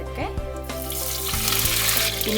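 Fenugreek seeds, added after mustard seeds, fry in hot oil in a pan for a beetroot and carrot pickle, giving a loud, dense, continuous sizzle with small crackles close by.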